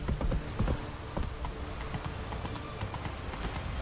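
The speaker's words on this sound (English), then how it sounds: "I can't go faster with my horse." In The Witcher 3 video game, a horse's hooves clop in a fast, rhythmic gallop, loud and close, with irregular heavier thuds early on and a continuous ambient bed beneath.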